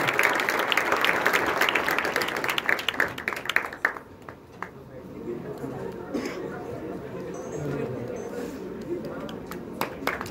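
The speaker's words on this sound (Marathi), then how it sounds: "Round of applause." An audience at a Marathi interview event with a Bigg Boss Marathi contestant applauds loudly for about four seconds. The clapping fades into crowd chatter and murmuring, and a few scattered claps follow.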